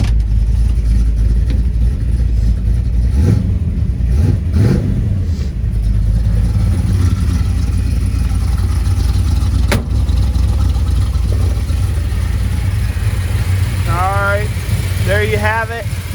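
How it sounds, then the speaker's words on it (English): A 1967 Chevy Nova restomod's 355 cubic inch small block V8 runs nearby with a loud, steady, deep rumble throughout, plus a few brief higher sounds near the end. "There's your small block Chevy motor, 355 cubic inch."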